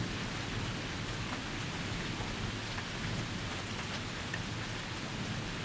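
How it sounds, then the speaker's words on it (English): Steady rain pours down as a thunderstorm begins, a dense even hiss of drops on surfaces with faint low rumbles of thunder underneath, no voices. "It's some big thunder coming, maybe. It's just starting this storm."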